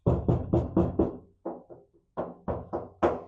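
Knuckles rap on the original steel door of a square-body Chevy Blazer before insulation goes in, two quick bursts of about five hollow, resonant knocks each, close and loud with short pauses between.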